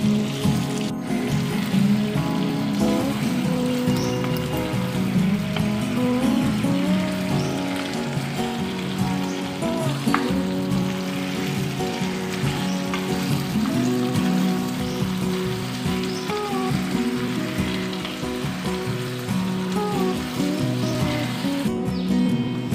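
Fried chicken pieces sizzle in chilli chicken sauce in a pan on a low flame, a dense, continuous crackling hiss that runs steadily throughout over a soft tonal background.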